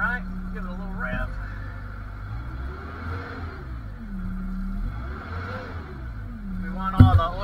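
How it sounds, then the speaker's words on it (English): Bobcat skid-steer loader diesel engine idling and then revving up and down a few times during an oil change, with someone talking over the rumble and a sharp clunk at the end. "give it a little rev"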